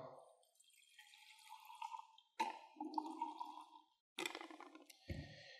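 Water is poured into a small batch of table salt to make a salt solution, with faint trickling and splashing in a few short bursts separated by brief pauses.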